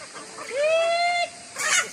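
A chicken call rings out with a long, steady tonal note, followed shortly by a brief noisy squawk, close by over quiet background.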